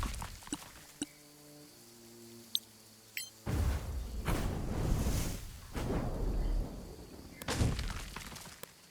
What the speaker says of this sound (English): Cast some fire bolt.